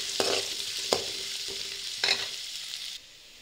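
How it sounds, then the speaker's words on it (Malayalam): Onions and crushed garlic sautéing in hot oil, a steady close sizzle with several scraping stirs of a spoon, the frying hiss cutting off near the end. "നല്ലവണ്ണം വഴറ്റണം"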